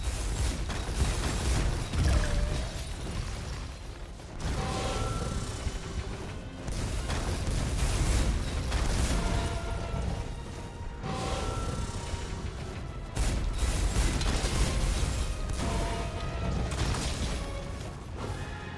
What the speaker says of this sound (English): Next is the ice machine gun.